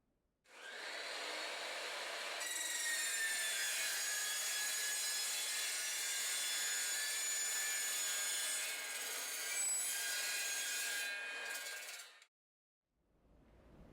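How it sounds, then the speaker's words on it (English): A 14-inch M. K. Morse Metal Devil saw cuts through metal raceway with a loud, steady, high-pitched grinding whine, close by, running about twelve seconds and then stopping abruptly. "the raceway can be cut well with the lid sideways against the fence or the vise"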